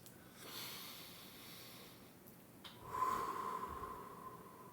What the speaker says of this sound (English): Let's take 4 breaths.